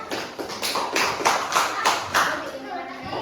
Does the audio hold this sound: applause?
yes